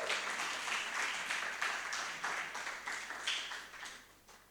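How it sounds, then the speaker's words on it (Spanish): A congregation applauds course graduates, faint, even clapping that holds for a few seconds before tapering off. "Le damos un aplauso a los que terminaron."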